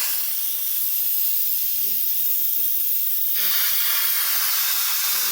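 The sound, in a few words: Instant Pot vent releasing steam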